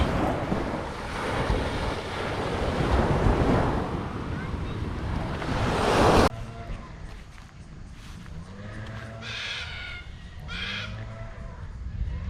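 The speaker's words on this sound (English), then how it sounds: "This is Tannum Sands Beach." Ocean surf at Tannum Sands Beach, Queensland, roars with heavy wind buffeting in the first half. It then drops to a quieter, more distant wash as crows caw and people talk nearby.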